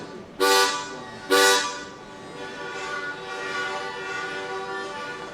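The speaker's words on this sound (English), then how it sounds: "This is why I learned to play the harmonica." An audience plays harmonicas together, drawing in on low notes: two loud, reedy chords swell and cut off, then a softer sustained group chord hums on with uneven voices in a large event room.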